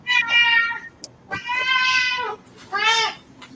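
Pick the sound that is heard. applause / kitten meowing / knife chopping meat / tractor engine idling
kitten meowing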